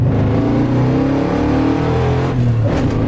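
A muscle truck with a Blueprint engine and Holley Sniper EFI pulls hard in second gear, a loud, steady rising engine roar filling the whole stretch with no talking.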